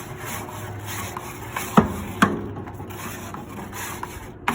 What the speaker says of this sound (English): Get a nice little scrape.